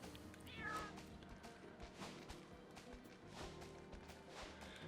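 Meowth in the video game New Pokémon Snap lets out a short meow amid faint game background sounds and light scuffling, with a voice talking quietly underneath.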